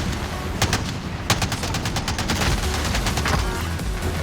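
Rapid automatic gunfire in the Call of Duty Warzone video game, a dense continuous stream of sharp shots with one louder crack, loud and close with no speech over it.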